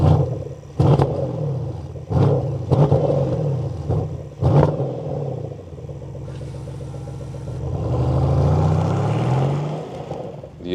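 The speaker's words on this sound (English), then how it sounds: "standing here at the exhaust, the question is, what's the sound here of the V8?" Porsche Panamera V8 exhaust heard from close by in a parking lot: sharp blips and revs, then a steady idle rumble that swells into a deeper, louder roar as the car pulls away.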